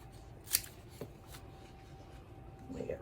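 Kitchen shears trimming the leaves of a pineapple top, giving a few quiet, crisp snips with a sharp cut near the start and softer clips after, set against a low room hush.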